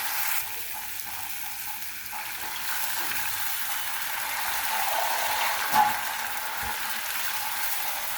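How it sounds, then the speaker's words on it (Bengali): A steady, close frying sizzle from spice paste cooked down until its oil separates, as water goes in for a rohu fish curry flavoured with coriander leaves. The hiss holds evenly throughout, with a brief spike near the end. "মশলা থেকে তেল বের হয়ে এসেছে। তাই এখন আমি ঝোলের জন্য দিয়ে দিচ্ছি পানি।"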